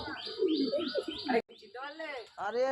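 Pigeons coo nearby in soft, throaty bursts, several calls overlapping at first, then separate rounded coos after a brief pause.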